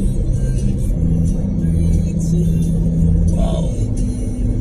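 On the Reformasi toll road in Makassar, traffic makes a steady low rumble, with a vehicle swelling and passing fairly close partway through, and no talk.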